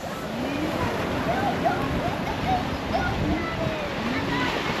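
Waves wash in on Chesterman Beach in Tofino, a steady close surf hiss with wind, while a child and adults chatter over it.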